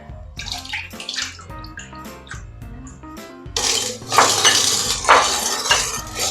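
Coconut milk pours into a pot of dissolved sugar for a Thai honeydew melon sago dessert. Clinking utensils and light taps come first, then a louder, continuous splashing pour.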